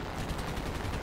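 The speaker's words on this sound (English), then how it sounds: "My AI gunner opened up on a damn AI." Rear gunner of a World War II fighter plane firing a machine gun in War Thunder, a steady dense rattle of rapid shots lasting the whole moment under engine roar.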